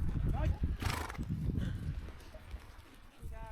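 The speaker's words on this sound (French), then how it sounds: "Les chevaux savent qu'ils vont rentrer, donc ils commencent à être très excités." Excited horses on a long trek in Georgia clip-clop and shift nearby, with a short whinny rising over the hooves and background birdsong.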